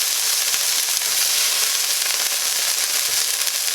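Beef sizzling in a hot pan, a loud, constant crackling hiss with a few faint stirring knocks underneath and no voices.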